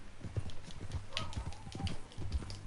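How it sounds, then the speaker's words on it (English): Horse hooves clip-clopping in Red Dead Redemption 2, a steady walking rhythm of soft thumps at close range, heard under characters talking. "That a new horse?"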